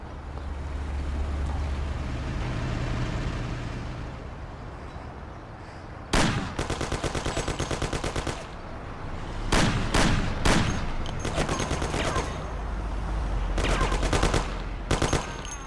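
Gunfire in the video game Mafia, loud bursts of rapid automatic shots and clustered single cracks in several volleys, separated by quieter stretches of low rumbling background.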